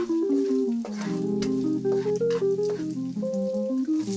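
Lap cheong sausage stir-frying in shallot oil, a steady close sizzle with soft scraping, sitting under loud sustained tonal music.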